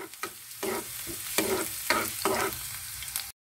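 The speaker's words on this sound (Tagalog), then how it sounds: "So, magigisa ako." Garlic sautés in a pan in short bursts of sizzle and scraping, a stirred rhythm of five or six close, fairly loud strokes before it cuts off abruptly.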